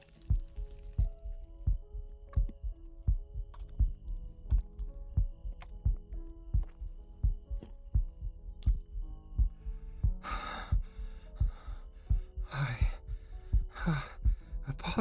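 A slow, steady heartbeat thumps close and soft in an intimate, quiet setting, with brief breathy gasps and sighs breaking in over the beats toward the end.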